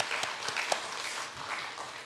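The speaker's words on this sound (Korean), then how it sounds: "우리 환영의 박수 좀." Welcoming applause from a church congregation, a soft, fairly distant patter of clapping with a few sharper claps and no talking.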